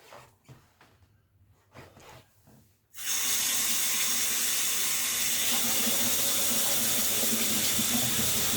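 A clawfoot tub shower kit faucet (RX2300) opens with a few handling clunks, then water gushes in a loud, steady, hissing stream that continues unbroken.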